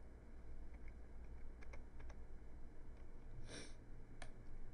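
Keys tapped on a computer keyboard while a password is entered at a login screen, a few sparse, faint clicks spaced irregularly over a steady background hiss, with no talking.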